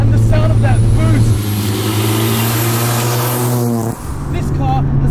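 A turbocharged Mazda FD RX7 with a bridge-ported 13B rotary making about 700 horsepower revs loudly and close, a deep sustained engine note with turbo whistle that drops sharply near the end, then picks back up.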